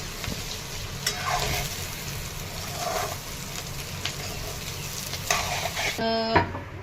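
Green chillies frying in oil over low heat, a steady soft sizzle with occasional stirring scrapes, close up and without talk, ending in a short mechanical whir.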